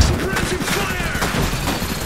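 Gunfire in the Iron Harvest strategy game, a busy spread of overlapping shots and bursts running steadily through the stretch, with in-game unit voices calling out over it.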